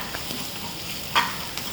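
Shallots and chicken for chicken kondattam being sautéed and stirred in a pan, giving a low, steady sizzle with one brief louder scrape of the spoon near the end.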